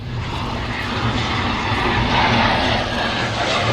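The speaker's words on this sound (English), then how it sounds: "This is probably the plane that's going to take Laura and Liv back to Sydney." A Virgin passenger airliner passes overhead near Sydney and the Whitsundays, giving a loud, steady roar of aircraft engines that swells slightly as it goes by, with no talking.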